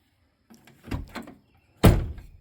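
A Cadillac Escalade door on a mud truck build is shut with a solid thunk, preceded by a couple of softer clicks and latch sounds, close and otherwise quiet.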